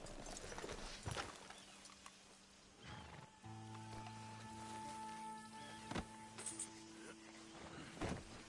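Horse hooves clip-clop in an irregular walking rhythm in Red Dead Redemption 2, with scattered clatter and a voice talking over sustained tonal background music.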